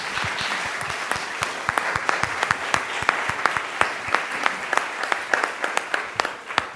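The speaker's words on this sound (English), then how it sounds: "give you a little round of applause" A room full of people clapping steadily, with sharp individual claps standing out against the dense patter of the crowd.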